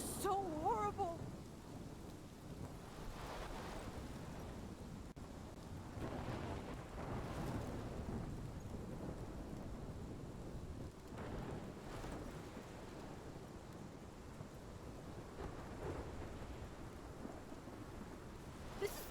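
Thunderstorm in Life is Strange, steady rain hissing with low rolling thunder rumbling through the whole stretch, a distant continuous wash with occasional swells.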